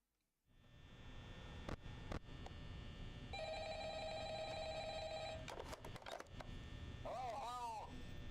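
A telephone rings with a bright electronic trill for about two seconds in the VR horror game Help Wanted, over a constant low room hum, followed by clicks and a short voice near the end.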